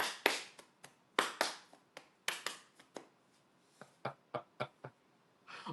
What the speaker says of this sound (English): It's like I'm clapping along with you.